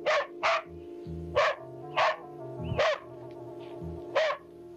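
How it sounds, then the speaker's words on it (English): A dog barks repeatedly in sharp, loud bursts, about six barks spread unevenly over a few seconds, over a steady low hum in a small-town setting in northern Washington. "she was distracted by the incessant barking of her dog."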